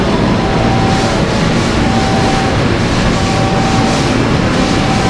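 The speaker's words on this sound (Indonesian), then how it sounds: "Kereta api Argo Bromo Anggrek melintas langsung jalur 6." The Argo Bromo Anggrek intercity train passes straight through track 6 at Bekasi station, a loud continuous rumble and rail roar filling the whole moment, with faint tonal squeals above the steady noise.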